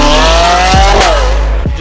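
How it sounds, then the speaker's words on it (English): A 2019 Lamborghini Aventador S fitted with a full custom titanium exhaust roars loudly and steadily, its engine note rising in pitch and then easing off, with no talking over it. "Just wrapped up a 2019 Aventador S, full titanium exhaust."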